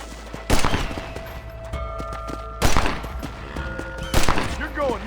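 Gunfire in the Red Dead Redemption video game: three loud bursts of shots, each with a sharp crack and rolling echo, spaced about two seconds apart over a steady background, with brief game voices in between.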